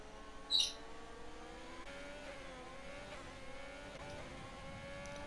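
Formula 1 race cars in the F1 2020 video game drone with steady engine tones that shift pitch as they accelerate, moderately loud and continuous after one brief sharp high blip near the start, with no talk.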